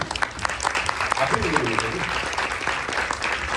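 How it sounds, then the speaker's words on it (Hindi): An audience gives loud, sustained applause as people are welcomed onto a stage at an event, with rapid overlapping claps and a voice speaking over them. "आगे आगे आइए प्लीज, जोरदार ताली से अभिनंदन।"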